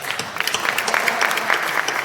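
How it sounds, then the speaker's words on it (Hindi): An audience at an All India Kavi Sammelan poetry recital claps after a poem, a dense, continuous burst of hand claps that stays loud and even throughout. "कविता खत्म, ताली बजाओ।"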